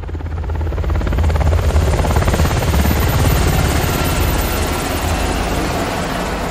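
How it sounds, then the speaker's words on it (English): A helicopter in the TV series The Walking Dead: The Ones Who Live thuds overhead, its rotor chopping in a fast, steady rhythm with a loud engine roar that holds constant. "Chopper."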